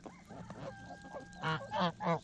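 Geese honk several times in quick succession at close range while feeding on tofu, with a few shorter nasal calls leading into three loud honks at the end.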